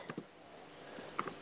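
Typing on a computer keyboard while entering text into an MS Excel 2007 spreadsheet, two short clusters of light key clicks separated by a pause, quiet and close with no speech.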